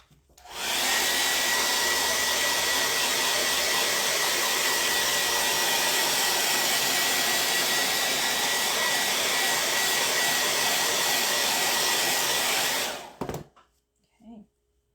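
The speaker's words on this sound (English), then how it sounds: "I'm going to take the blow dryer to this one more time." A blow dryer blows at full power across a chalk-painted wood plank, a loud steady whoosh lasting about twelve seconds before it cuts off into quiet.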